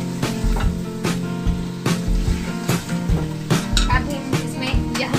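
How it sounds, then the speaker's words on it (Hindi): Pre-boiled beef frying in a pan for beef yakhni pulao, a continuous loud sizzle with stirring scrapes and clinks, close up, while a voice talks over it. "इसे बस हल्का सा फ्राई करेंगे"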